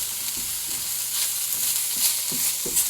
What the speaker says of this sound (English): lightly semi-cook the onions and garlic.